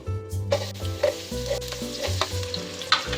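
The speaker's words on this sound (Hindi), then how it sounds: "प्याज को गोल्डन ब्राउन होने तक पकाऊंगी इसमें" Sliced onions fry in hot oil in a pan, giving a steady close sizzle over a sustained tonal backing that shifts pitch a few times, with faint scraping ticks here and there.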